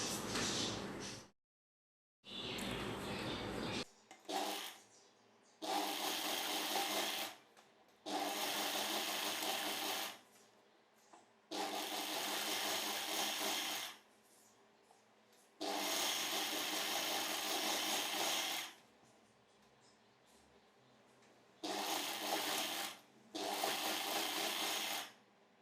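Domestic sewing machine stitches a straight seam joining saree petticoat panels, running in repeated loud bursts of a few seconds each, separated by brief pauses and small handling noises.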